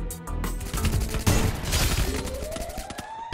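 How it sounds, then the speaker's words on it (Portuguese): Rapid bursts of gunfire in a game, dense overlapping shots with a loud crackling volley in the middle and a rising whine near the end. "Abaixa, muito tiro!"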